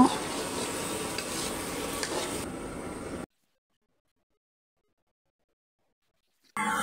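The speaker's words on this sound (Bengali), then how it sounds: "এরপর হলদি মরিচ পেঁয়াজ এগুলো উষ্ণিয়ে নেওয়া হচ্ছে। তারপরে আলুগুলো তার সাথে মিক্স করে নেব।" Turmeric, chili and onion fry in a pan with potatoes being stirred in, giving a steady close sizzle with scraping for about three seconds, then a silent gap before the frying noise briefly returns.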